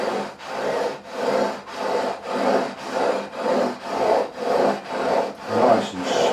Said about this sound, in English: Got some 240 grit emery on there and 400 grit emery on this side.